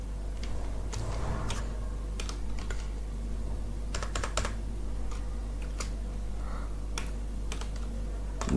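Clicky keystrokes on a computer keyboard while typing HTML code, irregular taps and short quick clusters over a low steady hum, close and fairly quiet.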